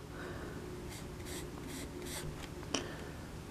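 A pencil makes quick shading strokes on paper for an eye drawing, several short scratchy sweeps at an uneven rhythm, close but faint, ending with a small tap.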